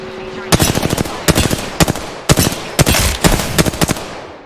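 Video game gunfire in loud, close automatic bursts, rapid clusters of shots separated by brief pauses, with a faint tone underneath before the firing starts.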